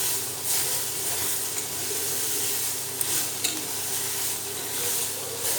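Soya chunks (meal maker) roast in a hot pan, giving a loud, steady hiss and sizzle up close with a few faint clinks of a spoon against the pan and no speech.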